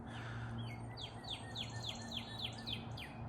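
A song sparrow sings outdoors during a misty drizzle in a New England spring storm, a series of bright repeated notes carrying from a modest distance over a steady low hum of gusty, damp background.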